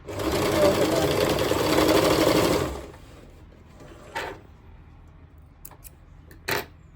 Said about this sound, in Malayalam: ഇവിടെ നമ്മൾ സ്റ്റിച്ച് ചെയ്തു